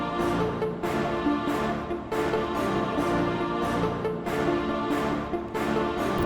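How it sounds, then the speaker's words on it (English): Big Choir pattern from Heat Up 3 layered into a beat, a sustained choral chord texture moving through a melody with rhythmic pulses and steady loudness, alone without talk. "I laid down this choir pattern."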